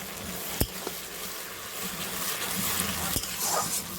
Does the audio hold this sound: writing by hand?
no